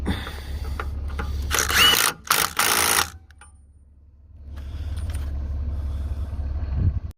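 Milwaukee M18 Gen 2 mid-torque impact wrench tightening a bolt at a salvage yard, probably on a 2013 Audi A4 rear cross member. A few loud, close hammering bursts rattle out mid-clip over a steady low engine rumble, with no talking.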